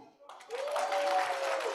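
Audience at an HR awards ceremony breaking into broad, steady clapping that swells quickly and holds at full strength, a dense wash of many hands close to the room.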